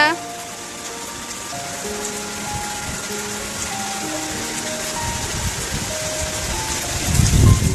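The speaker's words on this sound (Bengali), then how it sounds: "কি বৃষ্টি!" Steady rain falling with a constant wash of drops and a low rumble swelling near the end, heard from indoors alongside faint tonal sounds.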